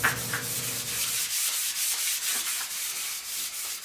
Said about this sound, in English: I went ahead and sanded everything down in the garage with my orbital sander